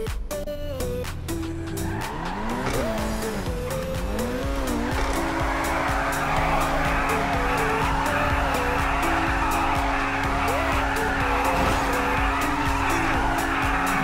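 A tuned car from a video game, a weekly fortune-wheel prize, drives out onto the street with a loud engine that revs and shifts, then holds a steady high drone with tire squeal and skidding.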